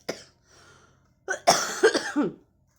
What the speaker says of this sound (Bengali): আমার সেই অনেক কাশি হচ্ছে দেখেন গলা জ্বালা করছে